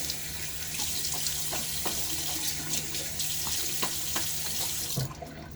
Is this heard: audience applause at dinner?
no